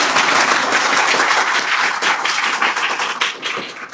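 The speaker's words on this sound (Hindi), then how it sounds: "तालियां, जोरदार तालियां भाई।" Loud, close applause and clapping from students at a coaching centre celebrating a pupil's top maths score, dense and continuous before thinning slightly near the end.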